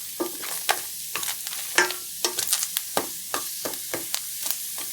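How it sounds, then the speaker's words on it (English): A spoon scrapes and stirs onions and garlic in a dry, oil-free stainless steel pan, giving sharp irregular clatters and faint dry sizzle with no talking. "I'm just breaking up the onions a little bit here."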